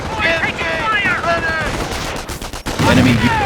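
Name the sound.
gunfire in video game Company of Heroes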